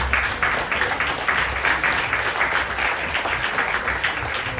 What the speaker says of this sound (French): 21e sur la liste, Sénatus Nadel Emmanuel, que je vous demande d'applaudir.